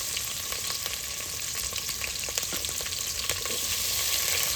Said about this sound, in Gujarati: ઉપરથી નાખ્યું છે તેલ. હવે નાખવાનું છે ડુંગળી